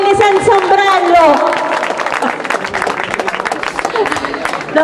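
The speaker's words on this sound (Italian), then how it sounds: "Facciamo un applauso a tutti quelli senza ombrello." A crowd applauding outdoors in the rain at Ostia: loud, dense clapping and crowd noise, with a voice speaking over the start before the applause carries on alone.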